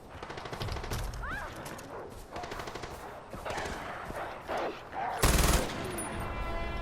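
Gunfire in the video game Far Cry 4: rapid automatic bursts and scattered shots crackle in quick succession, with one sharp, louder blast near the end and occasional game effects mixed in.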